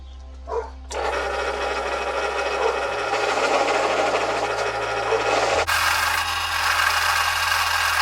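A polishing wheel buffs a metal Harris hawk bell, giving a loud continuous whirring, rubbing grind close up that runs steadily after a short start, with the tone shifting partway through.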